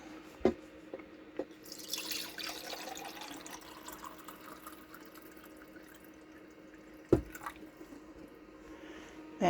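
Water drips and trickles softly from a small water purifier nearby, with a couple of sharper drops standing out against a faint steady background.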